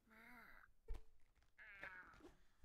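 A cat in the video game Night in the Woods gives two long, drawn-out wailing meows, the second rising and moaning, separated by a soft thump, close and clear with no talk.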